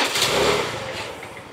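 A motorbike engine starts during a riding lesson, giving a loud, close, rough roar that runs steadily for a moment with no talking.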